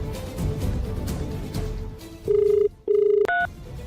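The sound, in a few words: telephone being dialed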